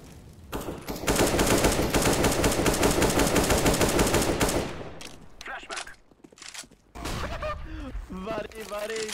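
Rapid automatic gunfire in Counter-Strike: Global Offensive fills the first half in a loud sustained burst, then scattered shots and footsteps follow as players talk excitedly over it.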